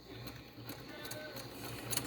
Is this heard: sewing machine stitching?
yes